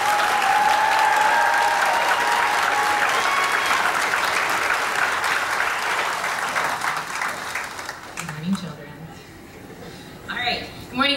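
Sustained crowd applause at a class of 2021 commencement ceremony, loud and dense before tapering off, followed by a voice speaking.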